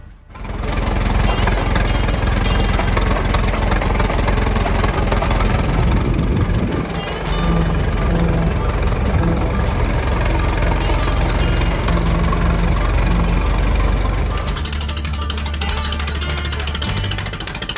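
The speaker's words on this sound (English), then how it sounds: "The Alice Chalmers Model U was a farm tractor produced between 1929 and 1952 by Alice Chalmers in the United States." An Allis-Chalmers Model U farm tractor, built between 1929 and 1952, idles with a steady, loud, continuous engine drone that holds for most of the stretch, shifting in tone toward the end.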